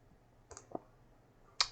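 A few separate keyboard clicks on a computer keyboard as letters are typed, with sparse, distinct keystrokes and a sharper final tap, close and fairly quiet with no talking.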